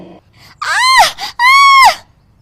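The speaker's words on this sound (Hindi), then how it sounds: "जल्दी जल्दी चूल्हा बुझाने के चक्कर में उसके पल्लू में आग लग जाती है और वो जोर जोर से चिल्लाने लगती है" A woman screams loudly in two long, anguished cries with a short break between them as the edge of her sari catches fire at a kitchen stove.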